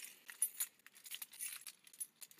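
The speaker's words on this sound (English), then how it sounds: "I'll put the keys in and" Keys jingle softly and close by as they are handled and put into the ignition of a 1974 Chevy Stepside truck, giving a faint, scattered metallic rattle.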